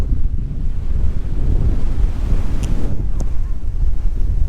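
Storm Dennis waves surge and break on an estuary near Hayling Island, driven by strong wind that buffets the microphone in a continuous loud roar of surf with no voices.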